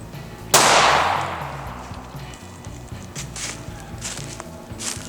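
A single loud, close gunshot from a compact Glock 26 pistol firing a Federal 9mm 115-grain jacketed hollow point, with a sharp crack that rings out and decays over a couple of seconds outdoors.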